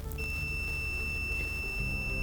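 A multimeter's continuity tester emits a steady, high electronic beep that holds unbroken, fairly quiet over a low background hum.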